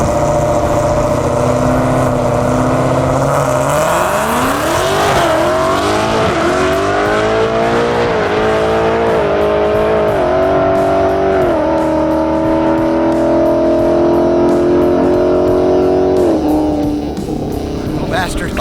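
Mustang muscle car launching down a Las Vegas drag strip, engine loud and close, pulling through rising revs with clear gear shifts, softened start with power cut in first gear, talk over the top.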